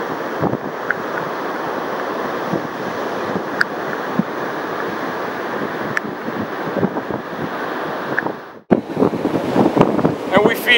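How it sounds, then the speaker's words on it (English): Wind and ocean waves roll in at a beach, a continuous broad rush with gusting wind buffeting the microphone. A brief dropout comes near the end before the surf noise returns louder. "And we feel today the wind and the ocean."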